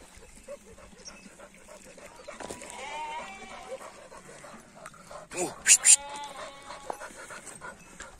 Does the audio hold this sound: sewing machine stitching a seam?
no